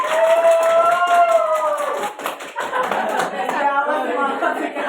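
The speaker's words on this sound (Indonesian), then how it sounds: "Tepuk semangat 1 kali. Tepuk 2 kali. Tepuk paling semangat." A classroom of students claps along in a spirit-clap routine, quick bursts of hand claps mixed with chanting voices and a teacher's lead, with a constant high whine running underneath.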